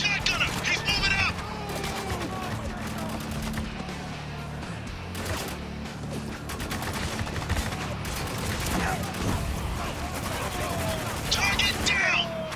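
Dense, continuous gunfire from the military shooter Spec Ops: The Line, with rapid bursts and heavy volleys filling the whole stretch, and voices shouting over the fight.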